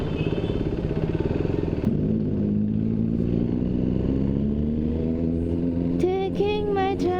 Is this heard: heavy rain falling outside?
no